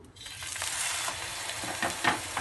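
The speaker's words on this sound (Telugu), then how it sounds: "వేయించుకోవటమే చక్కగా గోల్డెన్ బ్రౌన్లోకి వచ్చే వరకు వేయించుకుంటే సరిపోతుంది" Bread slices dipped in milk fry in a pan until golden brown, a steady close sizzle and crackle that swells slightly, with a few spoon scrapes and no talking.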